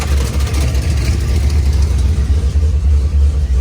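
A car engine runs steadily and loudly throughout, a low rumbling idle with slight surges, heard alone without speech.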